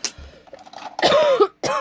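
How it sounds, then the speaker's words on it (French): A couple of harsh coughs close up, separated by a short pause, with quieter breathy sounds before them. "Ah bah je tousse"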